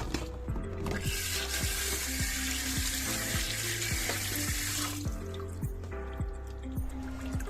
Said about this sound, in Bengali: আগে মাছগুলো আমি আর কি ধুয়ে রেখে দেই